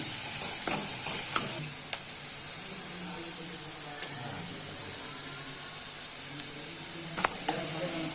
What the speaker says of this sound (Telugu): ఇదిగోండి, క్యారెట్ ముక్కలు వేగుతున్నాయి.